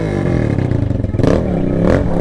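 A dirt bike engine revs hard and steadily on a trail, loud and close, its pitch wavering up and down with some rattling clatter.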